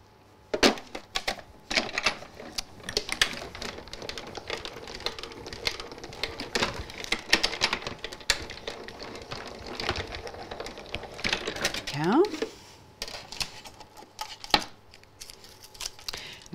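A die-cutting machine crunches an alphabet grid out of white card, producing a steady stream of dense, close clicking and rattling for about twelve seconds with a few sharper snaps toward the end.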